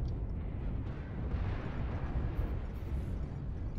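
Missile impacts hammer a mech in MechWarrior Online, a continuous loud rumble of overlapping explosions and booming hits running throughout with no clear gaps.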